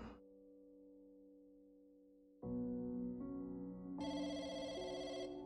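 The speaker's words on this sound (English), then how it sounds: "The phone's ringing." A telephone rings in electronic tones, a steady held chime that steps up into brighter, louder layered notes, with no one speaking.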